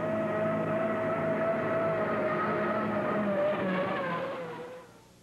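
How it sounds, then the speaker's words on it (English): A hydroplane racing boat, a new boat on its maiden run, drones with a steady loud engine whine throughout, holding level before fading away near the end with no talk. "In her maiden voyage, the new hydroplane surpasses with colors flying."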